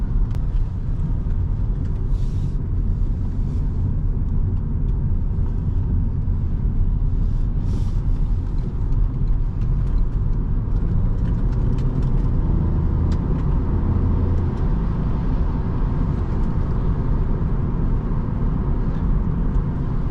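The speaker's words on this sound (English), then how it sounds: "Very smooth car, very nice to drive." A 2024 Toyota Yaris Hybrid small car drives along a road, heard from inside the cabin as a steady low rumble of road and tyre noise with a few faint brief hisses, no talk.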